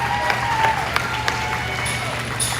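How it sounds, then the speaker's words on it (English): Audience applause at a livestock show's market lamb class: a steady wash of clapping from a crowd, fairly close, with a few sharper individual claps standing out over roughly three seconds. "Let's go and give all these exhibitors one more big round of applause."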